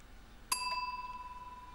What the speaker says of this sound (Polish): Te wczesne telegrafy uruchamiały zwykły dzwonek.